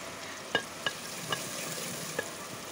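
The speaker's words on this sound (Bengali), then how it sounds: "তেলের সঙ্গে মশলাগুলো সুন্দর ভাজা ভাজা হয়ে গেছে" Steady soft sizzle of spices frying in oil, with a few sharp taps from a spoon against the pan, close by and without talk.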